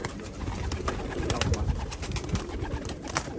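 Chocolate-coloured boğma pigeons cooing close by, male and female, in a steady run of soft, throaty coos that overlap against a low, busy background of fluttering and movement.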